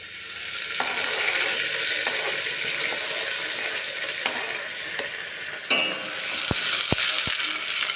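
Finely chopped green chillies and curry leaves hit hot oil with cumin seeds in a pan, giving a steady loud sizzle with stirring scrapes and a few sharp clicks near the end.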